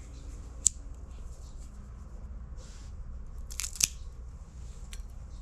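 A cutter makes a straight cut on a cigar, giving one sharp snip and then a short crunchy clip a few seconds later, close and fairly quiet, with no talking.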